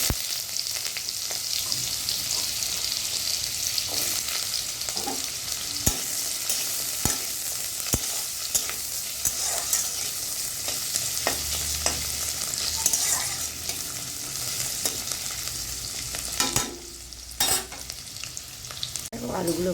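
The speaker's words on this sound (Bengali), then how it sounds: "এবার আমি আলুগুলো দিয়ে দেবো। আলু একটু ভেজে নেব।" Potato pieces fry in hot oil in a pan for a vegetarian elephant foot yam curry. A steady close sizzle runs throughout, broken by the scrape and clink of a spatula stirring now and then.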